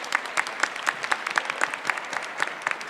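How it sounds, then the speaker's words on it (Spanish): An audience claps steadily at a panel discussion on democratic development in Mexico, a short burst of moderately loud applause in a hall with no voices over it. "Un aplauso para su compañera, por favor."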